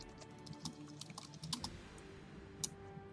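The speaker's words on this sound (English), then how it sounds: "maybe typing." Quiet computer keyboard typing, a few scattered light key clicks in an irregular rhythm over a faint steady hum, close but soft, no voices.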